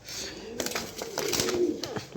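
A pair of top-quality racer pigeons coo softly, with a few low throaty calls close by among light rustling and handling noise.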